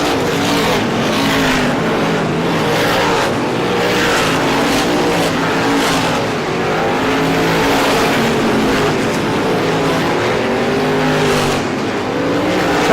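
Race cars roar around Star Speedway in an ISMA Classic 150 event, a loud continuous engine drone with rising and falling pitch as cars pass close by, no pause throughout.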